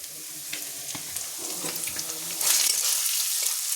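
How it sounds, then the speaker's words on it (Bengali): Ginger, garlic and onion frying in a pan for a rohu-and-poppy-seed fish dish give a steady, soft sizzle with scattered crackles, growing a little louder and brighter toward the end, with no talking. "সেদিকে এখনো আমার আদা আর রসুন আর পেঁয়াজটা ভালো করে ভাজা হচ্ছে"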